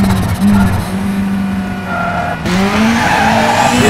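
Rally car in the WRC 5 video game skidding across a gravel intersection, a loud continuous tire slide over a roaring engine that shifts pitch partway through, with no speech.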